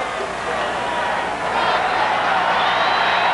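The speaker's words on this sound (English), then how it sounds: "Crowd trying to get the defense fired up for West Virginia" Stadium crowd at a 1997 West Virginia vs. Marshall college football game roars steadily to fire up the defense on third down, a dense sustained wash of voices that swells slightly toward the end.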